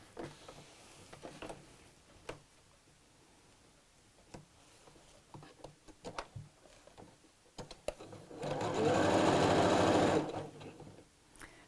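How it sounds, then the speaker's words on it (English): A sewing machine runs steadily for about two seconds, stitching a half-inch seam around the top of a smocked, diamond-patterned tote bag. Quiet handling noises and faint clicks come before the motor starts. "I'm going to sew this with a 1/2 inch seam allowance"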